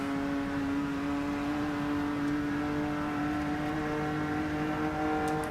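A race car engine in a racing video game hums steadily at a constant pitch, loud and continuous, with no talking over it.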